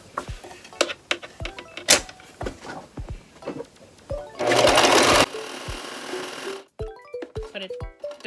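Home sewing machine stitching folded fabric for a cosplay, rapid bursts of mechanical clatter with short pauses between runs, close and fairly loud, with fabric handling in between.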